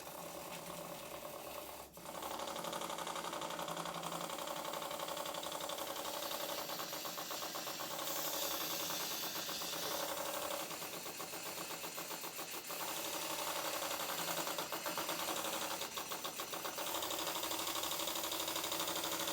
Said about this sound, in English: The engine is surprisingly powerful, but the main bearings are worn because the oil is just running straight through